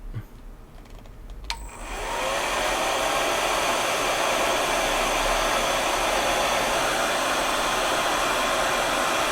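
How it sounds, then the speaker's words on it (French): After a click, a hair dryer switches on and blows a loud, steady roaring whoosh over freshly painted model parts, holding unbroken until the end. "Donc je mets un petit coup de sèche-cheveux."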